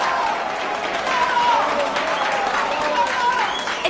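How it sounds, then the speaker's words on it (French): A studio audience claps and cheers for Floricienta and her friends at a live show, a dense wash of applause that stays steady and fairly loud for a few seconds. "je vous demande d'applaudir Floricienta et ses amis et leur titre Venami"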